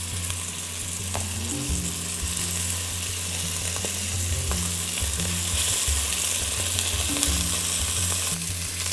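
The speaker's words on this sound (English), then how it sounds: "over this sizzling noise, what we're looking to develop now is basically browning this meat" Steady, loud sizzling of meat searing in hot oil, a continuous crackling hiss with low rumbling pan noise throughout.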